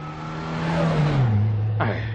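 A car in a 1975 French film drives past at close range, its engine note swelling and then dropping in pitch as it goes by, followed by a short mechanical squeal.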